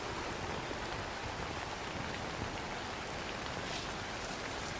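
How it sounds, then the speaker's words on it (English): Steady rain falling outdoors during a solo climbing ascent, a dense, even hiss of drops that holds at a constant level for the whole stretch, with no voices. "if this rain doesn't bug off here in a minute, I'm just gonna chance it."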